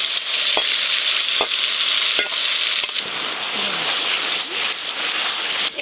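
Spice paste sizzling and spattering loudly in hot oil left over from frying chicken chaap in a kadai, a steady dense hiss broken by sharp clicks of stirring, close and alone without voices.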